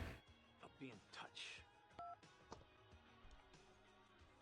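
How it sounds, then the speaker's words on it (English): A phone in GTA 5 story mode gives a quick run of keypad tones and short beeps, faint and sparse with small clicks between them. "And he slams his phone."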